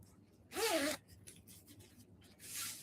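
The zipper on a handmade nylon zipper pouch made like a pen case is pulled in one quick close rasping stroke, then a softer rustle, and a second zip pull near the end.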